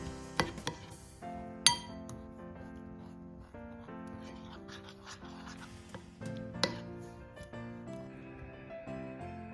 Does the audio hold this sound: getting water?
no